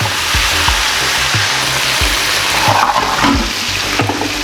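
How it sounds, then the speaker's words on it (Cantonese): Chicken pieces pan-fry until browned for Taiwanese three cup chicken, a loud, steady sizzle with occasional soft knocks and clinks as the pieces are turned. "稍微俾佢煎上色啦， 稍微反一反佢啦，俾佢稍微煎上色多少。"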